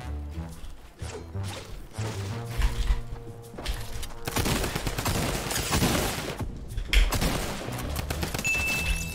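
Rapid bursts of drum gun fire in Fortnite, loud and close, with repeated volleys of shots, impacts and crashes layered over game effects.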